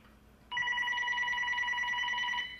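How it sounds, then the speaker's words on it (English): A cell phone rings during a quiet indoor interview, a bright electronic tone that starts abruptly after a short silence and then keeps pulsing steadily for about two seconds, loud and close, with no talking over it. "I'll turn off my cell phone, too."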